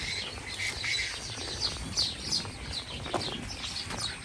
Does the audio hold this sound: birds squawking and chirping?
yes